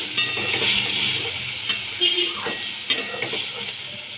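Cashew nut paste going into a pan of frying spices and getting stirred, a soft steady sizzle under a few sharp spoon-on-pan scrapes and clinks, close by, with no talk.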